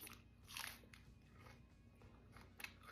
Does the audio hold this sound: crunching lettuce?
yes